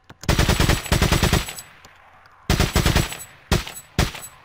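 Automatic gunfire from a recoiling weapon in Resident Evil 4: a sustained, loud machine-gun burst, a pause, then a longer rapid volley and two short bursts, all close and punchy with no talk over it.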